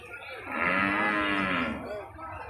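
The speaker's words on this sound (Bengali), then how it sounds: "আর সবই কোয়ালিটিফুল গরু এখানে রয়েছে" Cattle lowing at a busy cattle market where good-breed Indian cows are sold, a single long, loud moo swelling and fading over a couple of seconds against low crowd murmur.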